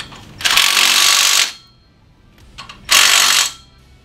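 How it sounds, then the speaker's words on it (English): A power tool tightens the pinch bolts on a custom bagger motorcycle being rebuilt, delivering two loud, close bursts of about a second each with brief clicks between them. "Go ahead and tighten up our pinch bolts."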